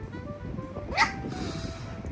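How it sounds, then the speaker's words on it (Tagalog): A young Belgian Malinois puppy gives a single short, high yip-like bark in the middle, heard faintly over low background murmur and rustle. "Pero may tumatahol na."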